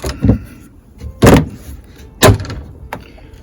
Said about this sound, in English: I'm going to close the doors to the coop.